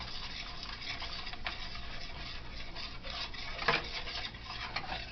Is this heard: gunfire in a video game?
no